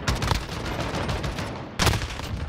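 Rapid bursts of Oden rifle fire from the shooter Modern Warfare, two loud clusters of fast gunshots close together, the second starting after a brief lull, with no talking.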